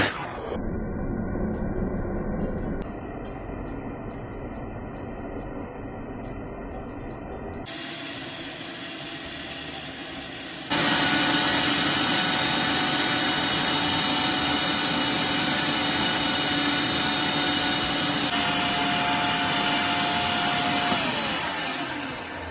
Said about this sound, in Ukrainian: Кишечку натягуємо на насадку, зав'язуємо кінець і начиняємо.